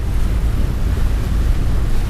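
Waves slapping against a boat on a lake in winter, a steady dense wash of water noise with constant wind buffeting the microphone, loud and close throughout.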